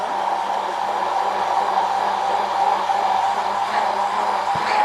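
A blender purées mango, honey, lime juice and olive oil for an Antillean fusion dressing, a loud, continuous motor whir that holds steady throughout.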